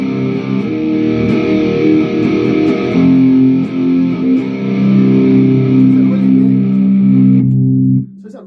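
A distorted electric guitar power chord in new standard tuning rings out loud and sustained, thick and heavy, holding steady for about eight seconds before cutting off abruptly.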